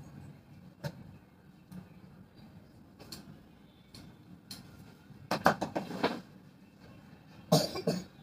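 A short burst of coughing near the end, two quick coughs, with soft ticking and faint tapping in a quiet room beforehand.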